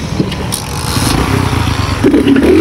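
Motorbike engine running close by on a street near the Shah Faisal Mosque, a steady loud rumble that rises toward the end as it pulls away, with scraping and clatter mixed in.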